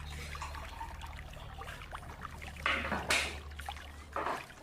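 Water at 9.5 pH is poured into a glass holding cumin, with a few short splashing trickles coming in bursts over a low electrical hum. Nobody speaks.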